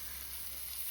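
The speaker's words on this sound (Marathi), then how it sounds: "हे थोडंफार शिजले त्यामुळे शुभांगी परतून घ्यायला लागली" Chicken sizzles as it is stir-fried in a pan at an outdoor farm tandoor party, a steady close hiss of frying with no talk.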